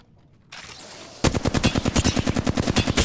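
Rapid shots from the Mozambique pistol shotgun in Apex Legends, a loud, close string of punchy blasts in quick succession after a brief quieter lead-in.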